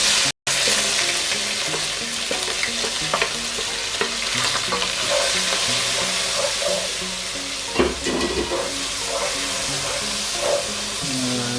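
Onions dropped into spices frying in a pan on a medium flame for a chana masoor dal tadka, giving a steady loud sizzle with scraping stirs and clatter, no talking.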